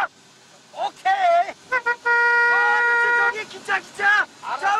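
A car horn gives a long, steady honk amid excited shouting voices, with shorter toots before and after.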